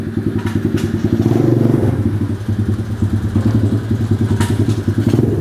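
A Symotos 110 mini trail motorbike engine running close by, a loud rapid popping putter that swells and dips slightly with light throttle changes throughout.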